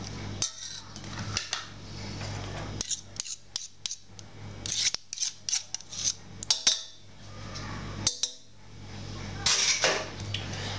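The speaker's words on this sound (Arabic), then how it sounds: "غادي نخلط هادشي مزيان على هاد الشكل حتى نحس به دخل ليا في لاكريم" Yogurt being mixed into pastry cream in a bowl, with intermittent scraping and clinking of a utensil against the bowl in irregular strokes, close and fairly quiet, no talking.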